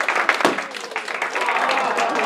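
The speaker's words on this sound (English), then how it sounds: "Let's give him a big round of applause, ladies and gentlemen" A live showcase audience breaks into a short burst of applause, loud, dense clapping that rises sharply, then settles into a steady patter.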